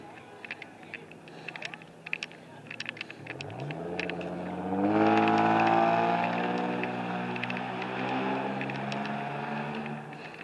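A car pulls away along a town street, its engine note rising as it accelerates from about the midpoint, loud and close, with faint street noise around it.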